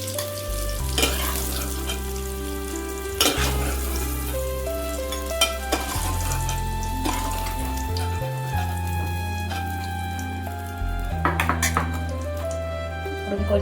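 Potatoes frying in a pan for aloo dum, giving a continuous crackling sizzle with occasional sharp clinks and knocks of a utensil against the pan, steady and close throughout.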